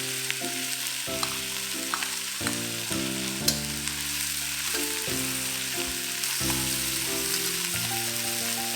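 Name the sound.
ginger, spring onions and garlic sizzling in oil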